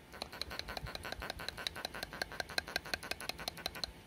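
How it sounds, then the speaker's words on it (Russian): Rapid, steady clicking of a clean, working BMW N46/N42 VANOS solenoid valve, evenly spaced sharp ticks held close, with a faint mechanical hum underneath and no speech. "Вот это вот звук чистого исправного клапана"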